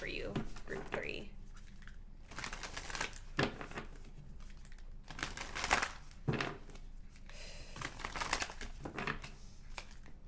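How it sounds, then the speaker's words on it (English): Astrology cards are drawn from a deck and handled, making soft, close rustles and crinkly slides in several short bursts, with quiet breaks between them. "let's pull some of these astrology cards and just get some more insight here for you"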